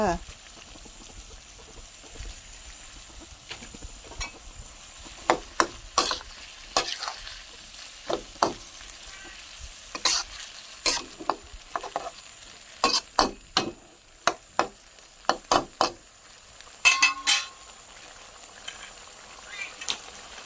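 Chicken offal being stir-fried in a pan for a basil stir-fry, a dry sizzle broken by repeated sharp scraping strokes of a spatula, close and fairly loud, with occasional talking.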